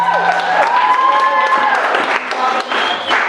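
Wedding guests clap and cheer for the bride at a reception in a brief, lively burst, with music playing underneath the crowd.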